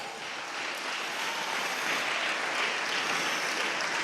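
A church congregation at a Pampanga worship service claps together in a dense, sustained wash of applause that swells slightly and holds steady, heard from within the hall.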